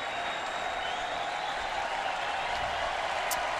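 Alabama fans cheer inside a stadium at a college football game against Vanderbilt, a steady broad crowd roar with scattered applause holding at an even level throughout.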